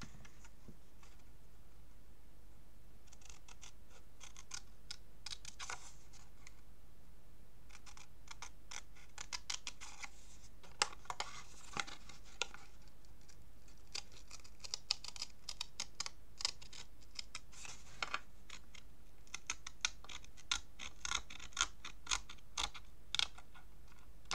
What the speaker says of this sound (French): Avec mon cutter, je viens couper de l'angle de la cartonnette à l'angle du papier.